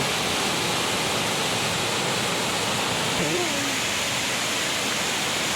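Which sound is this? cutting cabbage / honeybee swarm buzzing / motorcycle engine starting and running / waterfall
waterfall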